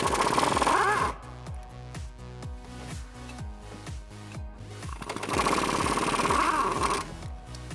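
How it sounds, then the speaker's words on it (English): Impact wrench fitted with a U-joint loosening the two 16 mm upper shock bolts on a Dodge Challenger, with loud bursts of rapid rattling hammering near the start and end and a quieter ratcheting stretch between. "Next up, we're going to loosen up the 2 upper shock bolts. They're both 16 millimeters."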